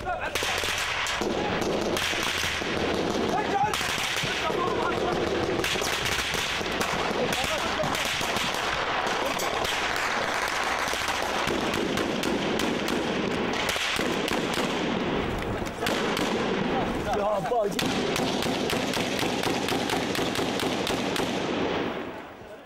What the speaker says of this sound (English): There was fire from both ends of the street.